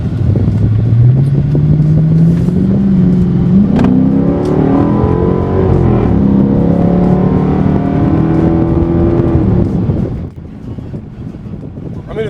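A Dodge Magnum with intake modifications accelerates hard, its engine note climbing steadily through a long pull, loud and close with some wind buffeting, before easing off near the end.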